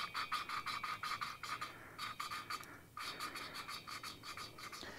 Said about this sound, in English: Lapping valves. Some people call it grinding valves.